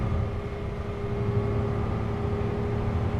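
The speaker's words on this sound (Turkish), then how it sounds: "Bak bak yol sesini duyuyor musun bak." In Euro Truck Simulator 2, a Temsa Maraton bus's steady, low engine drone and road rumble hum evenly throughout, with a faint constant whine above it.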